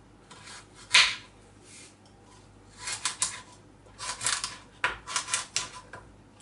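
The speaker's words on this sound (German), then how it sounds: "Und in große Stücke schneiden, also so 4 bis 5 cm." A knife chops food on a cutting board into large chunks for a herb-roasted pork dish. Near, crisp knocks come in short uneven bursts with quiet gaps between them.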